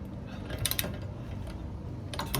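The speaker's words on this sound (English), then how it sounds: "now I'm gonna put the wrench to 80 pounds of torque pressure" A torque wrench tightens wheel spacer nuts on a 2018-2022 Honda Accord to 80 pounds, giving a few quick metallic ratchet clicks in short bursts over quiet background.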